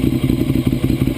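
Ducati 848 motorcycle engine idling and being revved in a workshop during a fuel pump hose repair, a loud close rapid pulsing throb with a clattery mechanical edge, no talk.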